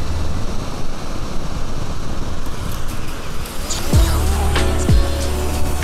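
A car engine cranks and catches after cleaning, with two sharp starter bursts near the end over steady background rumble, the second firing it into a running idle.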